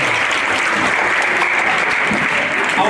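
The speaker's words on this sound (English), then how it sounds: "We have one more round of applause for all of our orchestra students." A school audience at a spring concert gives a steady round of applause for orchestra students, dense continuous clapping heard close and on its own.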